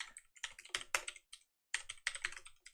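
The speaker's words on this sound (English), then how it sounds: "trying to rapidly type all the typing that C++ makes me do" Rapid typing on a computer keyboard while coding in C++, with close, crisp key clatter in quick bursts broken by a brief pause.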